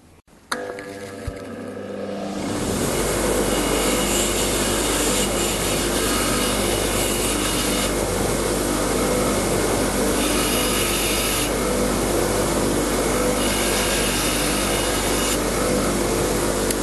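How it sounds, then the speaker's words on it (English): A worn hex (Allen) key tip is held against a spinning wire wheel to deburr it: after a brief motor spin-up, a loud, steady abrasive scratching and whirring runs continuously and close up, with no talk. "So I'll just run this over the wire wheel, and that will deburr it"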